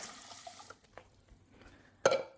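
Water splashes and trickles briefly into a pan, then a louder burst of pouring liquid rushes in at the end.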